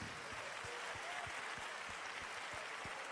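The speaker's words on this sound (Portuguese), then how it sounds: "Vamos aplaudir ao Senhor?" Church congregation applauding the Lord during a Sunday worship service, a steady wash of many hands clapping at a faint, distant level, with scattered individual claps standing out.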